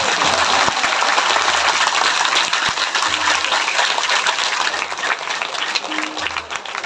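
A large audience at a Hindi religious discourse claps loudly and continuously, a dense roar of hands that holds steady for several seconds before easing slightly toward the end.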